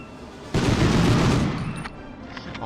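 Machine gun fire in the Medal of Honor video game, set during an escape from a V2 rocket plant, bursts out as a loud, dense fusillade of rapid shots and then trails off into echoing reverberation.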